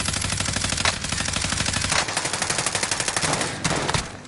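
Dense automatic gunfire in a multiplayer shooter video game, a loud, fast, continuous rattle of rapid shots that briefly pauses and resumes, with no talk over it.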